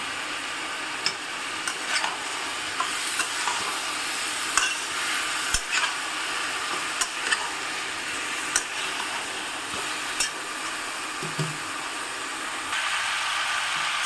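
Chicken browns in a pan with spices, giving a steady, close sizzle with occasional soft clicks and scrapes of stirring throughout, and no voices over it.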